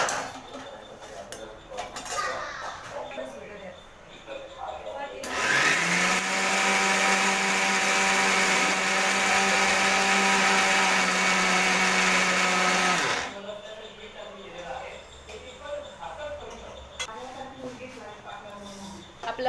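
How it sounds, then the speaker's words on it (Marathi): A kitchen mixer grinder whirs loudly and steadily for about eight seconds, grinding a spice paste, while someone talks before and after and utensils clink in the background. "आता आपण याचं वाटण करून घेणार आहे. मी वाटण करून घेते."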